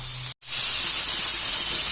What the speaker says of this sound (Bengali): সুন্দর করে ভাজা হয়ে গেলে এবার আলুগুলো দিয়ে দিয়েছে, দিয়ে এবার ভাজা করবে।